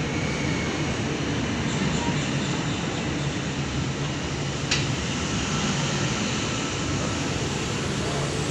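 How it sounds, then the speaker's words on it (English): A Sydney train pulls into platform 5 at Blacktown station, a loud continuous rumble and roar that fills the whole stretch, with a brief sharp squeal midway, heard over the platform's ambient noise. "Central service arriving into platform 5."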